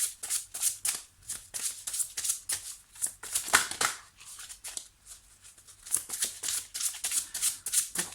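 Tarot cards shuffled for a card draw, a quick run of crisp, papery riffles and flicks repeating in close, steady bursts with short pauses between them.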